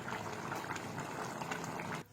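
Rice boils in a pot on a home kitchen stove, a faint, steady bubbling and simmering that continues for about two seconds before cutting off.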